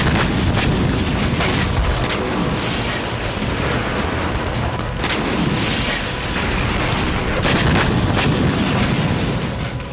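Heavy, booming tank and MLRS rocket artillery fire in Kharkiv during the Russia-Ukraine war, with repeated loud blasts and rumbling over a constant roar of battle and no speech.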